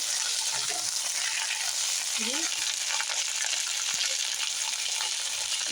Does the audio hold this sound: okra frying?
yes